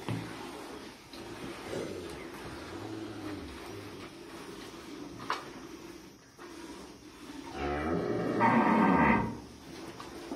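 Cows with calves in a corral during morning milking give a drawn-out moo near the end, over a steady hum of farmyard shuffling and rustling.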